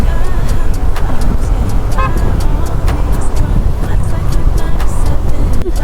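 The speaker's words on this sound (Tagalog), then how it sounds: "Aray mo, ang lalaki ng truck." Large trucks pass at night on Maharlika Highway near Pagbilao, heard as a steady, loud roar of engines and road noise. A horn toots briefly partway through.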